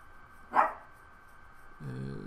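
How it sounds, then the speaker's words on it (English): A single loud dog bark bursts out near the start, followed by a low droning hum and a steady background tone. "This dog is very loud."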